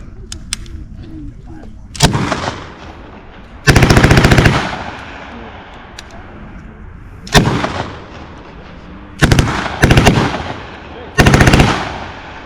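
Bursts of MG42 and ZB machine gun fire at an outdoor World War II weapons demonstration, five loud rapid-fire volleys spaced apart with short gaps between them.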